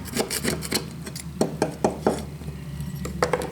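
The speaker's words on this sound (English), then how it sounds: "Okay, let me scrape this off." A metal scraper rasping rust and dirt off an old tool bought at auction, in quick irregular strokes up close, fairly quiet, with no talk.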